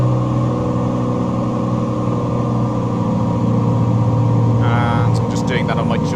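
Steady drone of a turbocharged Cessna T182T propeller engine held at 2,100 RPM in Microsoft Flight Simulator 2020, a constant loud hum throughout, with a brief faint burst near the end.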